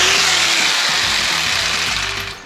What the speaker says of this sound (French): Pourquoi je coupe mon placo à la scie sauteuse?